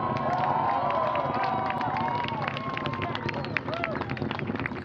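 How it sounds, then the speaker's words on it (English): Crowd at Wallops cheering the liftoff of an Orbital ATK Cygnus rocket, a sustained, dense wash of distant cheers and shouts under outdoor wind, steady throughout. "Crowd watching the launch at Wallops there, cheering its liftoff."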